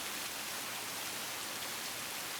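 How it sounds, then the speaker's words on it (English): Steady rain ambience from the visual novel Tsukihime, a soft, even hiss of falling rain that stays constant and fairly quiet throughout, with no voices over it. "I listen to the sound of the rain."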